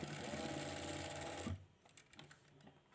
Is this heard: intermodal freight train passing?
no